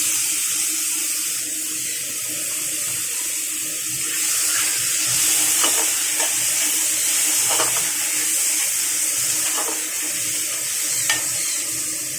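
Chopped onion frying in a pan with a bay leaf and cumin seeds for an egg curry, a steady close hiss of sizzling oil with intermittent stirring clicks and scrapes and no talk over it.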